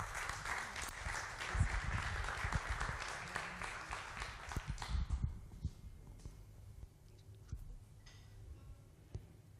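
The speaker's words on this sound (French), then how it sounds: "on les applaudit" Audience applause at a French awards ceremony, a moderate spread of clapping for about five seconds that then drops away to quiet room noise with scattered faint sounds.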